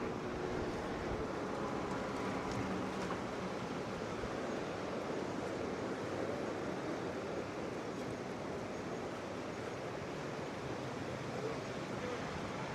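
A river surf wave at the Boise Wave park rushes steadily, a continuous dense roar of churning water heard at moderate level throughout.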